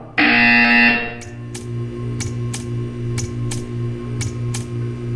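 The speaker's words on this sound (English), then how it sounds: "You will hear a buzzer." A loud, harsh electronic buzzer blares for about a second in the Portal 2 test chamber, followed by a steady low hum with a series of sharp, evenly spaced clicks or ticks.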